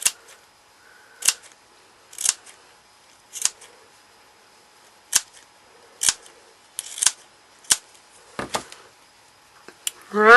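Scissors snipping through fur to cut pieces for a puppet wig cap, a series of crisp isolated cuts spaced a second or so apart, close and clear, with a voice speaking briefly at the end.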